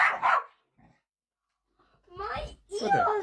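A dog gives a short bark or yip, then after a pause a person talks in an excited, playful tone as the dog's small vocal sounds mix in nearby.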